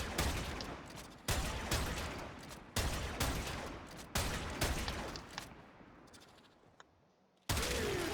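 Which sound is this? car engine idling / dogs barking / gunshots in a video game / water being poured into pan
gunshots in a video game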